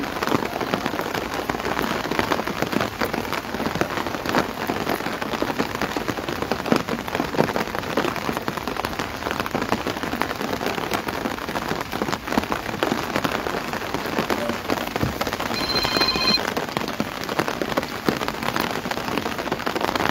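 Heavy rain pours steadily over Shimla, a dense, unbroken hiss of downpour on surfaces with no voices.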